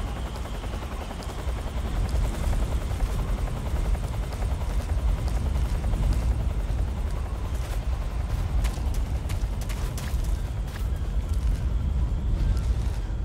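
Helicopter from the video game Metal Gear Solid 3 thrumming steadily and loudly for the whole stretch, a dense low rotor drone with scattered sharp bursts on top that may be gunfire.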